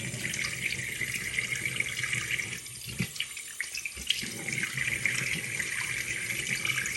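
Tap water runs steadily into a sink while a hair system is being wetted, a continuous hissing splash with brief gurgling dips partway through.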